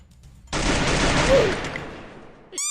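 A sustained burst of rapid laser gunfire in Free Fire blasts for about two seconds, loud and dense, then cuts off with a short sci-fi warble.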